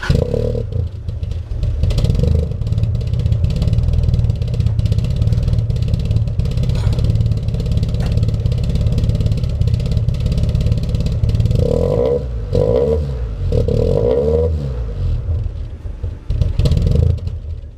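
A 1991 Toyota Celica GT idles and revs with a badly leaking exhaust, loud and close, a rough rumbling drone with rattling and raspy blips rising in a few throttle bursts.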